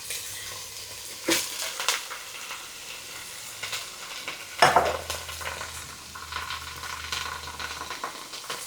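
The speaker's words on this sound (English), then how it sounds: "And so now then I'm going to put in my rotel tomatoes." Canned Rotel original mild diced tomatoes with green chilies are tipped into a pan of sautéing onions for chicken taco soup, with a steady sizzle, a couple of sharp louder bursts as they hit, and stirring scrapes throughout.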